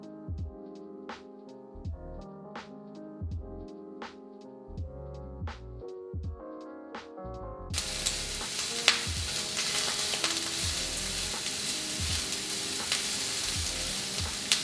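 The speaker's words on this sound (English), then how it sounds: "Cook, stirring occasionally until light and browned and slightly softened, 3 to 4 minutes" Green peppers and sliced onion frying in a pan, heard as a loud, dense sizzle that sets in abruptly halfway through after a stretch of background music, with occasional stirring knocks beneath it.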